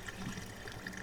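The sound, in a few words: water being siphoned through a hose on a boat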